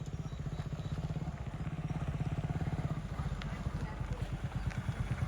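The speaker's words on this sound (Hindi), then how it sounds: "बाइक से यात्रा करते हुए।" A motorcycle rides along a road in Nepal, its engine putting out a steady, pulsing mid-pitched throb that rises slightly partway through, with faint rattles on top.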